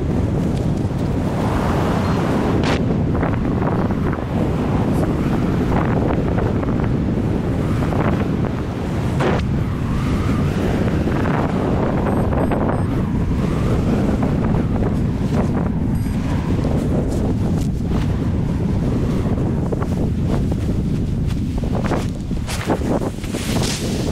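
Steady, heavy wind buffets the microphone throughout while paragliding over Tenerife, a constant roaring rush with gusty surges, loud and close, with no voices.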